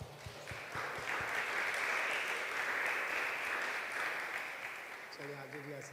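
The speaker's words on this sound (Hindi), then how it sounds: "ज़ोरदार तालियों में वेलकम करें" Applause from a church fellowship gathering welcoming a guest, building into a full sustained round of clapping that fades near the end as a voice starts speaking.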